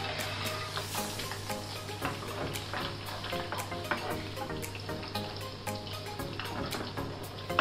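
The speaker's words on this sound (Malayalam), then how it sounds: "നന്നായി ഫ്രൈ ആവട്ടെ." Kerala style spicy chicken fry crackles in hot oil, a dense, continuous sizzle with frequent sharp pops, close and steady, with occasional stirring and no talk.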